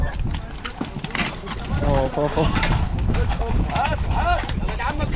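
Horses' hooves clip-clop along a hot Cairo street, a steady clatter mixed with traffic and wind under loud, close conversation.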